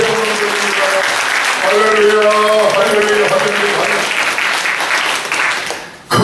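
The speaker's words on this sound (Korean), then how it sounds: "박수를 하나님한테 보내드립니다" A church congregation at a New Year revival service claps loudly and steadily, mixed with voices and tonal sustained sounds, before the noise drops off sharply near the end.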